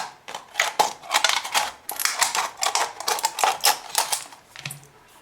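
Small scissors cut through the thin metal of a tin can, a close, rapid run of sharp metallic snips and clicks as the blades work back and forth in short repeated strokes.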